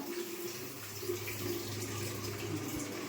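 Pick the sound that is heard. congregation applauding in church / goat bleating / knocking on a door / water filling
water filling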